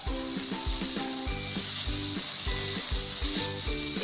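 Chicken frying over medium heat in a pan with soy sauce and chili sauce, a steady close sizzle with regular rhythmic scrapes and stirring knocks throughout.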